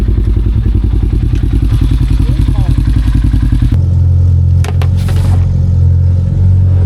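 A race car is driven up and down a road, its engine roaring close and loud with rapid pulsing. The engine note shifts abruptly partway through, with a few sharp clatters.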